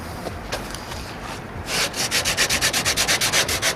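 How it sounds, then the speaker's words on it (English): Hardening Bondo body filler on a 1968 AMX being sanded by hand, soft rubbing strokes at first, then a quick run of about fifteen rhythmic scraping passes, close and fairly loud. "it's actually kind of sanding instead of just rolling off"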